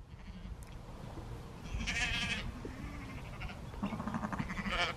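A sheep bleats nearby, two wavering calls with a short gap between them over a low outdoor background.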